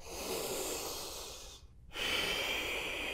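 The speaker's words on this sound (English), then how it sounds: "Deep breath here." A deep breath taken in a yoga forward fold: a long, close, airy breath, then a short pause and a second, stronger breath.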